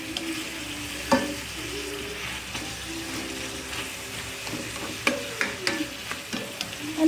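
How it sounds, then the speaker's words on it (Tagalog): A spoon scrapes and stirs sautéed vegetables in sauce in a sizzling pan, with steady frying hiss and intermittent clinks of utensil against metal, close and without talk. "Haluin lang mabuti."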